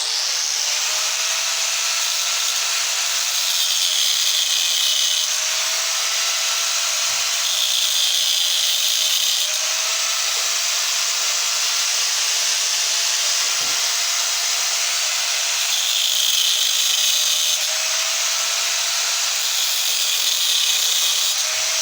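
A power tool cuts a piece off a part while a fan motor is being taken apart, a loud, steady whining grind that runs continuously with slight pulses and no talking.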